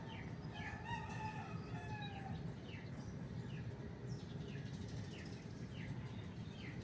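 A pet rooster crows repeatedly, with several drawn-out calls and some clucking, heard at moderate distance over a steady bed of background noise.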